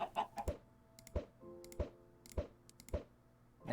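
Chickens in Minecraft give a series of short, separate clucks at an uneven pace, a few close together, heard clearly alone against a quiet background.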